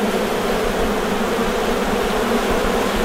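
Honey bees buzzing densely around an opened hive during an inspection, a loud steady swarm hum filling the whole stretch with no talk.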